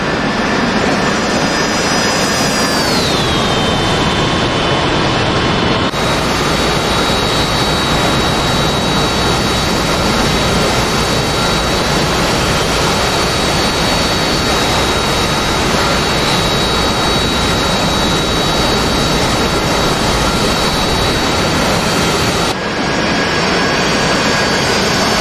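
Loud, steady jet engine roar from a Harrier in the DCS combat flight simulator, a continuous whine with a pitch drop near the start and a slight shift around twenty-two seconds, with no voices.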